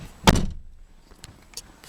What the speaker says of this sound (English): You get a nice thunk when you close the door.